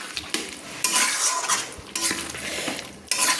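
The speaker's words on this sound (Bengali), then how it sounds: "কাজুটাকে দিয়ে আমি কিন্তু লো ফ্লেমেই কিন্তু নেড়ে নিচ্ছি।" Chicken with cashew paste stirred in a pan over a low flame, spoon scraping and clinking against the metal in bursts over a soft sizzle.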